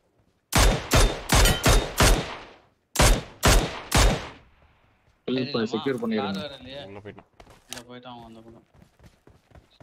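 Loud, close gunshots in the battle royale game BGMI come as two sharp bursts of about five and three shots, followed by someone talking in Tamil.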